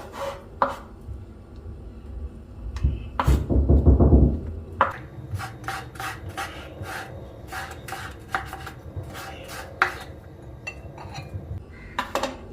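Knife chopping carrots and vegetables lengthwise on a board in a home kitchen for a bread and vegetable breakfast, with rapid close sharp knocks in bursts and a brief louder rustle of handled food midway.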